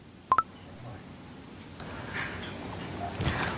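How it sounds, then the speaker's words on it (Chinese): A phone dials out to a grandfather: two quick, clear tones at the start, followed by faint room noise and soft murmuring voices. "你要不要现在给他打个电话？"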